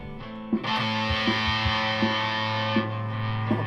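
An FGN Iliad electric guitar on its bridge pickup plays through a fuzz distortion, giving a thick, buzzing sustained tone with a repeated picked note pulsing at a steady rhythm, loud and alone.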